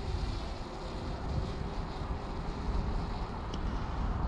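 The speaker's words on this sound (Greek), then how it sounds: "Δεν νομίζω να μας δημιουργήσει πρόβλημα ο αέρας." Steady outdoor wind rushes and buffets the microphone during a DJI Mini 2 drone flight, a loud continuous roar with no gaps or separate events.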